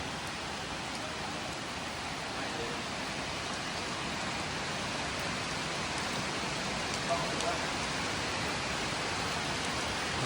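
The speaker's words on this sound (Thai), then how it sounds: "ฝนตกครับ" Steady rain pours down in a continuous hiss, an even wash of drops falling on surfaces with no break.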